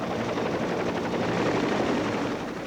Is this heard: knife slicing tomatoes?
no